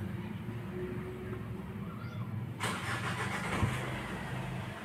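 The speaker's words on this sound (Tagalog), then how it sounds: "Kita natin na madali naman siyang paandarin, pero pag RPM ay kusang namamatay." 2012 Ford Everest engine with a stalling fault cranks and catches near the midpoint, a faint, muffled start that settles into a low idle before the engine dies.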